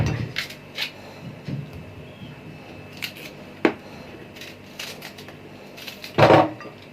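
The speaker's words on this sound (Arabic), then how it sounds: "كده فرمنا البصل فرم ناعم" Onion being finely minced by hand for kibbeh: scattered sharp knife taps and chops with brief clattering pauses, close and fairly quiet, ending in a louder scraping burst.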